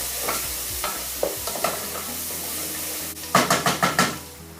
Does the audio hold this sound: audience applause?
no